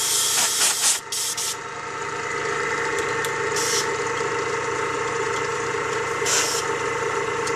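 Steady hissing spray from a compressor-fed paint gun, continuous and close, with a few brief sharper bursts of air and an underlying mechanical hum.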